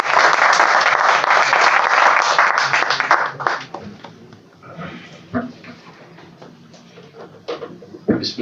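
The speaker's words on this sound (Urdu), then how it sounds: "آپ کی پرزور تالیوں" Audience applause in a hall at a Pakistani literary book launch, welcoming the chairman to the stage; dense, loud clapping for about three seconds, then thinning into scattered claps and room noise.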